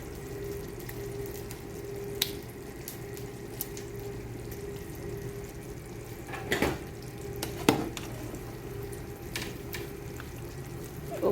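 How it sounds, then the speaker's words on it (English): Chicken added to a Nigerian stew that has been boiling a while: a constant low bubbling with a few sharp clinks and scrapes of stirring and utensils against the pot. "let me add the chicken to it."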